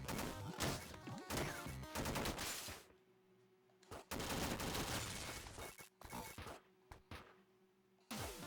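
Blasts of shotgun fire in the video game Downwell, loud dense bursts of crunchy chiptune-style gunfire with crashes, broken by short quieter gaps.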